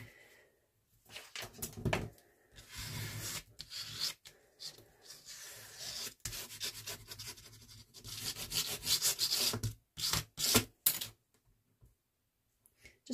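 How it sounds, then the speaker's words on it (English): Tape being rubbed firmly down onto paper in a handmade journal, soft, close scratchy rubbing strokes in uneven bursts with brief pauses, quiet overall and with no one speaking. "you give it a real good rub down because it sticks right into the fibres"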